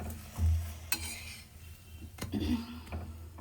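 Khichdi cooks in a pot while a spoon stirs and scrapes the metal, giving soft irregular clinks over a low bubbling simmer. The sounds are quiet and close, with a faint voice now and then.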